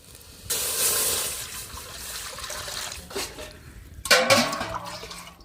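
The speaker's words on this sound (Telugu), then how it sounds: "తపాలు పెట్టేసుకొని దీంట్లో వాటర్ పోసేసుకుందాం" Water poured from a vessel into cooking pots, a steady splashing trickle for several seconds, then a louder burst of pouring and splashing toward the end, close and with no talk.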